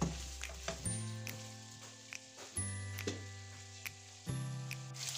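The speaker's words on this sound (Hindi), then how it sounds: "चिकन अच्छे से फ्राई हो गया है।" Chicken sizzling and frying in a pan for chicken jalfrezi, a steady close hiss with several louder bursts and scraping stirs at intervals, no talking.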